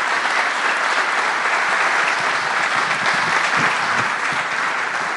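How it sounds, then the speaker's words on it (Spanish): A conference audience gives Juan Grompone loud, sustained applause, a thick continuous roar of clapping hands that stays strong and steady from start to finish. "Yo quiero pedir un fuerte aplauso para Juan Gompone porque creo que se lo merece"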